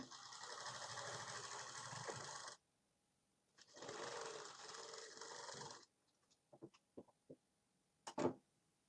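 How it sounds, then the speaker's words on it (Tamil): A sewing machine stitches a 40-inch blouse in two steady whirring runs of a few seconds each, close by, then a handful of scattered clicks and knocks as the work is adjusted. "ஸ்டிச் பண்ணிவிட்டு இதை வந்து டபுள் டைம் வந்து நீங்கள் தையல் போட்டுக்கோங்க"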